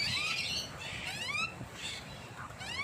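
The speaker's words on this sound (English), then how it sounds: "They get to go in there and look for bugs and just do magpie things." Caged magpies squawk and chatter in a teaching cage, a run of harsh, scratchy calls repeating every half second or so, fairly close and loud, with no talking.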